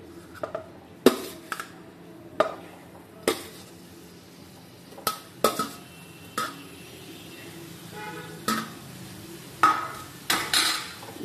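Boiled pumpkin being mashed in a pan with a utensil, giving repeated irregular knocks and scrapes against the metal, fairly close and moderately loud, spread across the whole stretch with quiet gaps between.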